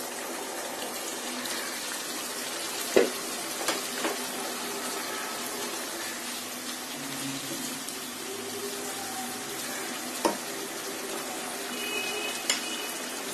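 Cauliflower cooks in a spiced tomato-sauce mixture in a pan for a korma, giving a faint, even hiss with a few isolated clicks of a utensil against the pan.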